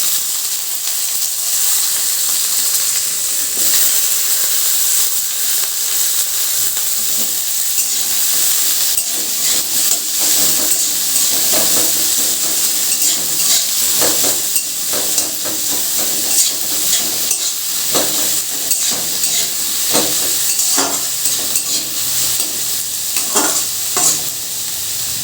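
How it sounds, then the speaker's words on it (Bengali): Onions fry in hot oil left in a kadai after peanuts were fried, a loud continuous hissing sizzle throughout, broken by frequent scraping and clacking strokes of a spatula stirring close by. "ওই তেলের মধ্যে পেঁয়াজ ভাজা করে নেব।"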